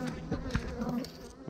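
A honeybee buzzes close by at a backyard hive, a faint, wavering hum with a few brief louder swells over a short moment.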